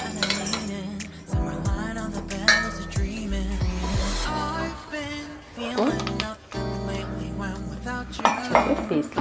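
Spices are dropped into a metal grinder jar in a home kitchen, making clinks and rattles among dish and utensil clatter. Someone speaks over and between the sounds.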